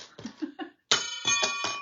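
Metal cutting dies thrown down onto a work surface, giving bright tinkling, ringing metallic hits in two short bursts with a brief silence between, close and clear.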